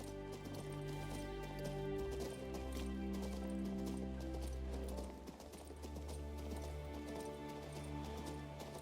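Horse hooves clip-clopping steadily as a mount is ridden in King's Bounty 2, a rhythmic trot under a droning background score.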